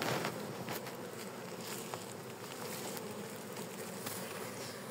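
A honey bee colony at the first hive inspection of the year, on a hot day, fills the air with a dense, steady buzzing, soft and even throughout with no speech.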